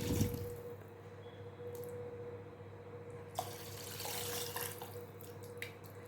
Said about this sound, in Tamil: நான் ஒரு அரை சொம்பு வந்து தண்ணி ஊற்றிக்கிறேன்.